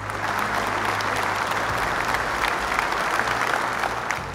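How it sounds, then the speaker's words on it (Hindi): Steady applause fills a hall as a studio audience cheers a team at a Bible quiz show, many hands clapping in a continuous, even roar at close range with no voices rising above it. "तो एक बार जोरदार तालियां हो जाए"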